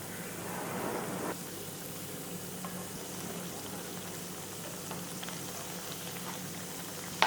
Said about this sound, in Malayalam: അതുപോലെ തിരിച്ച് മറിച്ചിട്ട് നല്ല ബ്രൗൺ കളറാക്കി ഫ്രൈ ചെയ്ത് എടുക്കണം.